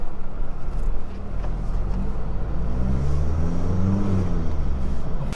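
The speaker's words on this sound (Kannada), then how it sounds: "ಮೇನ್ ರೋಡ್ ಬತ್ತ ಗಾಡಿ ಉಂಟು" A vehicle coming along a main road: a steady engine rumble that grows fuller and rises in pitch midway as it nears, with broad road noise throughout.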